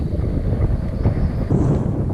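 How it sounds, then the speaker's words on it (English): Strong wind blowing across a lake during kayak fishing, a steady low rumbling roar buffeting the microphone throughout with no talking. "That's how hard the wind is blowing."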